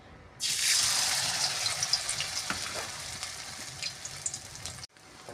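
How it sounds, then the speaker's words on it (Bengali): Malabar spinach leaves coated in rice flour hit hot oil in a wok, bursting into a loud, continuous sizzle that holds for about four seconds and then cuts off abruptly. "চালের গুঁড়ো লাগানো পুঁই শাক একটা একটা করে আমি দিয়ে দেব।"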